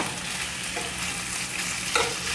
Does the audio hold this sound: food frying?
yes